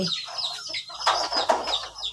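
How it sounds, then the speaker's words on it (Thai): Chickens cluck in short, scattered calls, fairly close and moderately loud, with a denser burst of clucking midway and no talk. "ไก่ก็มีสองสามตัว"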